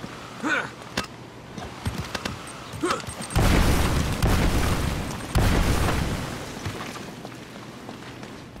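In Uncharted: Drake's Fortune, a grenade goes off with a loud, broad boom that rolls on for a couple of seconds and is then followed by a second blast amid game noise.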